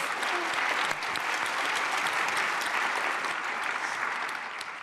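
Audience at a climate change symposium claps for the panelists, a close, steady round of applause that holds evenly and then begins to thin.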